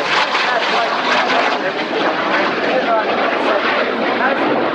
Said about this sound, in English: The formation rolls as a single big transport aircraft.